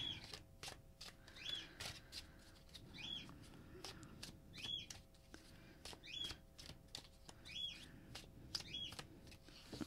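Repeated riffle shuffles of a deck of cards, crisp bursts coming every second or so, with small bird chirps sounding faintly in the background.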